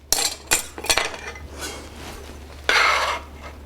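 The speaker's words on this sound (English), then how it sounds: "I'm gonna take these and put them into our bowl." Vegetables dropped into a bowl at a tailgate food prep, giving several sharp clinks and knocks in the first second, then a quieter stretch and a louder rustling clatter near the end.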